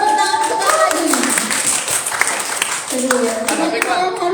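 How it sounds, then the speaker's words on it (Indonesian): An audience claps after an art performance at an organisation's inauguration ceremony, a steady wash of applause running under an MC's voice, which talks over it at the start and again near the end. "Tepuk tangan sekali lagi."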